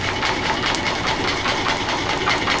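A programmed industrial sewing machine stitching black Alcantara car interior trim for a McLaren 650S Spider, giving a steady, fast mechanical whirr with rapid needle clatter that runs continuously at close range.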